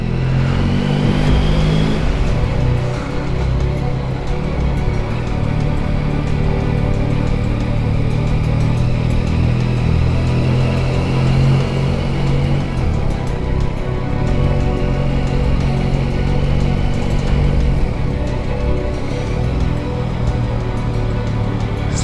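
Motorcycles ride a mountain road in the Vercors on a group road trip of about fifteen bikes, a steady loud engine drone with rising revs near the start and continuous wind rush, no talking.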